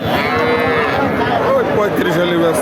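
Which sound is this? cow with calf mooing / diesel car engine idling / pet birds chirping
cow with calf mooing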